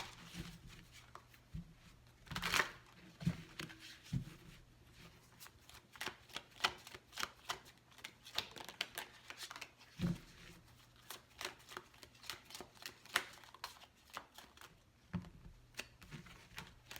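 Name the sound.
shuffling tarot cards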